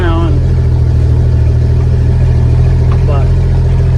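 An International Harvester L-130 truck engine runs with no exhaust system fitted, giving a loud, steady, throbbing idle that continues evenly throughout, close up and dominant.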